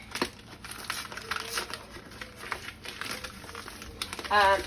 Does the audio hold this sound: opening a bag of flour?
yes